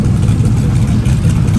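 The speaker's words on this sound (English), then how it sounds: "Fireball Roberts car is about to fire up and take off" A race car engine, Fireball Roberts' car, runs loud and close with a rough, low, throbbing idle that holds steady through the short stretch.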